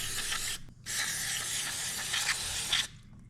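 Cleaner sprayed onto a dirty Honda Foreman ATV carburetor: a short hissing burst, a brief pause, then a longer steady hiss that cuts off, close by.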